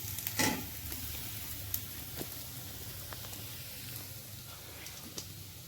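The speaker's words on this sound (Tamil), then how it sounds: "இன்னும் கொஞ்சம் வெங்காயம் வதங்கணும்" Onions sautéing in a pan at home, giving a steady, fairly quiet frying sizzle with a few faint crackles and light ticks throughout.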